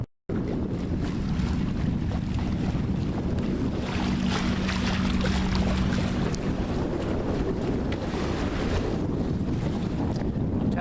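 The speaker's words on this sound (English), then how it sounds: "Tally-ho is sailing along very nicely on a close reach." A sailboat sails on a close reach, heavy wind buffeting the microphone over a constant rush of water along the hull, loud and unbroken after a brief silent start.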